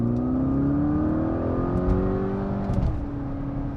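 A Volkswagen GTI with a DSG gearbox revs up from inside the cabin, its engine note climbing steadily in pitch and then dropping back, loud and close, with no talking.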